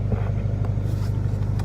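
A new car's engine sputters and bogs down, a steady low rumble close to the mic that keeps dipping and surging, with some wind buffeting over it.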